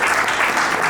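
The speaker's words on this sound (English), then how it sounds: "Give them a clap." An audience at a 70s/80s-themed annual ball claps in a dense, steady round of applause that is loud and close and fills the whole moment.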